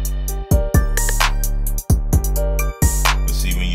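A Redrum drum machine pattern in Reason plays loud and close, with repeated punchy hits and sharp cutoffs between phrases over a steady low-end pulse, no voices.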